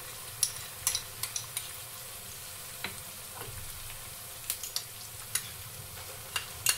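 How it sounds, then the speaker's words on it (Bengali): A paste of ground onion, cumin, ginger and garlic fries in oil for a beef bhuna. The sizzle is soft and steady and sits close by, with scattered clicks and scrapes from a spoon stirring the pan, and no talking. "এরপর এই মশলাটাকে একটু সময় নিয়ে তেলে ভেজে নেব"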